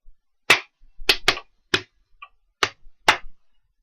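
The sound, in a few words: hands clapping a rhythm example over a metronome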